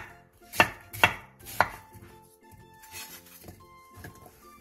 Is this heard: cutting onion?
yes